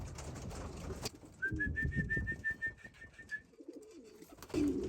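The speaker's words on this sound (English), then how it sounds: "Oh, a bunch of birds." Racing pigeons return to the loft at the end of a young bird race, cooing and calling nearby while a steady whistling tone and brief bursts of noise sound over outdoor background.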